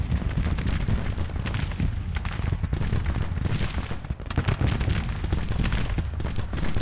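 Sustained volleys of rifle fire from several Civil War infantry brigades in the strategy game Grand Tactician, a loud, unbroken crackle of overlapping shots that barely pauses across the whole stretch.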